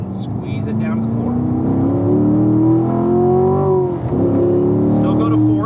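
A car pulls hard under full throttle around a racetrack on a driving school instructor lap, engine note climbing steadily before a brief dip at a gear change, then pulling again; a voice talks over the engine.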